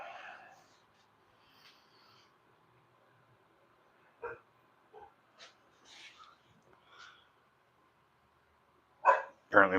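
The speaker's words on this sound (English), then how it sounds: "Apparently my dog wants some attention." A dog barks in short bursts indoors, with scattered barks through the middle and a louder close cluster at the end, over a quiet room with faint background noise.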